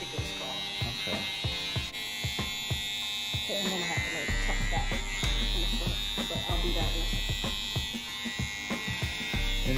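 An electric razor buzzes continuously while a man's hair is trimmed smooth on the sides during a home haircut, close and steady, with other clicks and handling noises around it.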